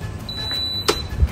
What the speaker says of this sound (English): Once you hear that beep, it's time to let the magic happen.